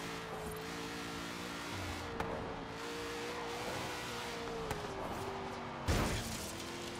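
A Shelby car's engine pulls steadily in second gear in the racing game Forza Horizon 3, with a sustained tonal drone and a few brief clatters and thumps under continuous road noise.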